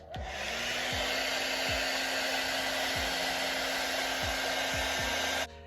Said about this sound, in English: We grab our handy dandy blow dryer and blow dry on cool.